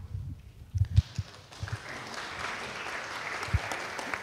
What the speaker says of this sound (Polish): jeszcze nic nie powiedziałam, a już dostałam brawa